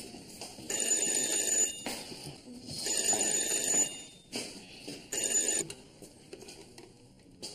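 A telephone at a police station rings in three long electronic trills with short pauses between them, close and clear, with no voices.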